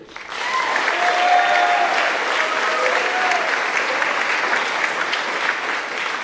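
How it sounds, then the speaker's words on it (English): Round of applause at a senior awards night for perfect school attendance, a hall of people clapping steadily and fairly loudly, swelling in after a quiet start and holding even, with faint tones and murmurs underneath. "please give a round of applause to Carson Boyer,"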